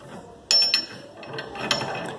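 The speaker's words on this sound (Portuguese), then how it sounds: "Vem com a chave, que nesse caso aqui é 24, e aperta ele." A 24 mm wrench tightening a bolt on a Volkswagen Golf "sapão" during home suspension work: a few short metallic ratcheting clicks and clinks, close and fairly quiet.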